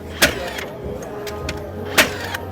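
A Bosch Profactor 18V concrete nailer fires into steel, giving two sharp, loud bangs about two seconds apart. Quieter clicks and a low hum sit between them.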